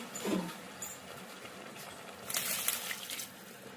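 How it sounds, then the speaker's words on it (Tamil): Water pours steadily into a pot for cooking rice, a close hissing flow with a brief louder gush toward the end; no one speaks. "இப்போ நான் 4 டம்ளர் தண்ணி ஊற்றுவேன்."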